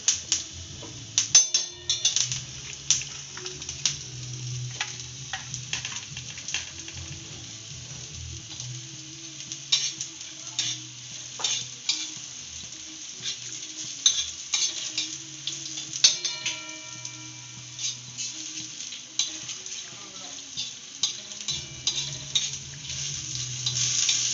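Coriander seeds and whole spices roast in oil in a pan for a Khandeshi-style fish roe dish, with steady soft sizzling and frequent scraping stirs and spoon clicks throughout, fairly close and moderately quiet, no voices.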